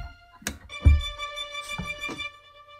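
Orchestral Tools Time Macro clockwork tonal sample: sharp ticking clicks and low knocks fall irregularly over a sustained shimmering tonal chord, several distinct mechanical strikes spread through a short passage.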